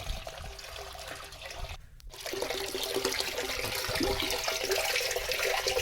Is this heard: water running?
yes